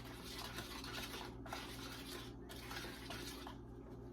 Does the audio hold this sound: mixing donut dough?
yes